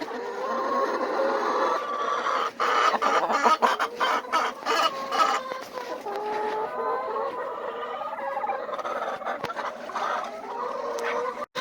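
Backyard chickens, including a few speckled Sussex hens, clucking and chattering together on a small farm in a steady, busy run of calls throughout, close and fairly loud with no talking.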